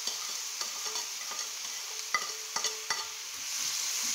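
Coconut candy being stirred in a hot frying pan: a soft, steady sizzle broken by distinct scraping taps of the spoon at irregular intervals, close up with no speech.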